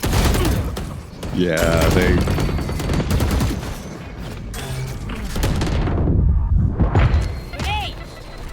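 Shotgun fire and other gunfire in a Valorant esports match, with dense repeated loud blasts and impacts amid game effects, under excited voices of people talking.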